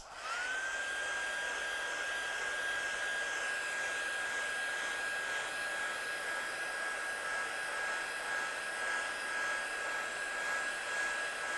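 A hair dryer blows steadily on freshly stamped black ink at home, a continuous close whir with a constant high whine, lasting the whole stretch without talk.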